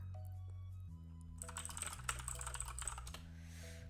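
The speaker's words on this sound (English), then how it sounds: "My keyboard is super loud." Loud typing on a computer keyboard, a steady patter of close key clicks that runs dense and busy throughout, with no one speaking.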